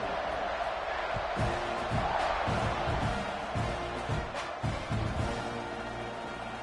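A football stadium crowd murmurs and roars steadily before the kickoff, a dense, moderately loud wash of distant voices with occasional thumps and no clear announcer speech.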